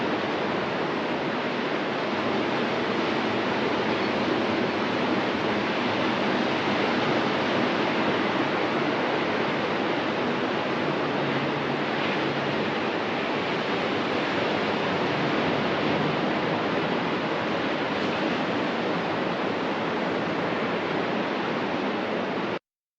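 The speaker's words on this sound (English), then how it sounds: "For the moment, let's just enjoy this ocean view" Ocean waves heard from a balcony, a steady, even roar of distant surf that holds without pause throughout.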